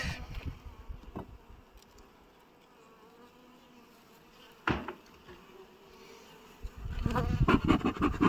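Honeybees hum around a hive at an abandoned apiary, with a steady low insect drone, a couple of sharp close knocks, and a louder burst of buzzing and handling noise near the end.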